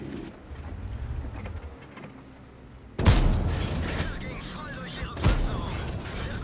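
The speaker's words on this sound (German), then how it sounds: "Der SHPTK hat geschossen." Tank cannon shots in World of Tanks, including the SHPTK firing: a heavy muffled boom near the three-second mark and another sharp blast after five seconds, under a murky background of engine rumble and battle noise.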